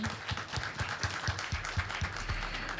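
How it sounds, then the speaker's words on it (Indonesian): A church congregation at a Sunday service applauds. The clapping is steady and fairly even, with soft repeated thuds that sound somewhat distant and low in volume. "berikan tepuk tangan lagi dong"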